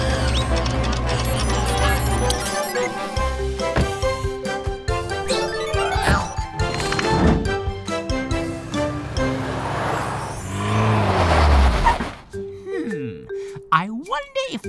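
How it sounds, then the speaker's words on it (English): A cartoon tow truck drives off as a string of animated vehicle sound effects: engine whirs, dings and sliding tones over background music, closing with a few sharp accents. "Go, go, Tilly Tow Truck."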